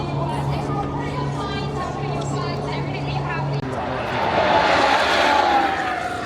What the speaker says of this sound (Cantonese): Royal Navy 嘅直升機啊